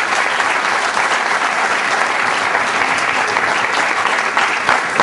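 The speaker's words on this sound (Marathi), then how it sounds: "त्यांच्यासाठी एकदा जोरदार टाळ्या होत्या ज्यांना ज्यांना पुरस्कार मिळाला" Loud, sustained applause from an audience at an award ceremony for the prize winners, steady dense clapping filling the whole stretch without pause.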